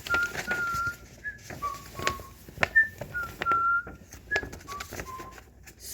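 A young child whistles a string of short, thin, breathy notes in an irregular rhythm, close and fairly quiet, with soft handling noises and a little background voice between notes.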